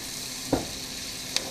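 Scallops browning in a hot pan give a steady, close, even sizzle throughout, with two or three brief knocks or clatters from the pan or utensil.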